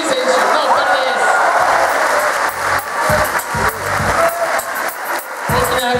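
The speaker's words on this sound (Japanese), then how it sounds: "大きな拍手でお迎えください。" A crowd at a Sagan Tosu public viewing event in Kurume applauds as soccer players Naoya Kikuchi and Ando come out, giving loud, sustained clapping with crowd noise and voices mixed in.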